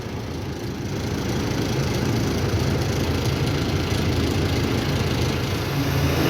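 A sugarcane truck's engine runs steadily nearby, a continuous low rumbling drone with a rough, slightly rattly texture that holds at an even level throughout.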